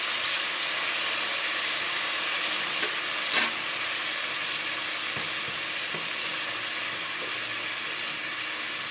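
Green turkey berries (sundakkai) cooking in a pan for kuzhambu give a steady, close frying sizzle with a broad hiss, plus a few soft clicks and stirring knocks, one sharper clack near the middle, and no talking.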